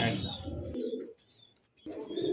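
Soft, low cooing from doves close by, two mellow calls separated by a brief quiet pause.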